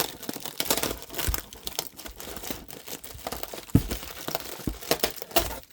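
Crinkling and tearing of tape and packaging as a taped box holding rhino beetles is opened, with irregular close crackles, rustles and a sharp snap, no talking.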